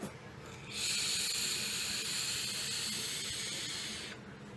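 A vape with a 0.5 ohm coil and wide airflow draws a long, steady airy hiss lasting about three seconds, close to the mic, starting and stopping abruptly, with no talking.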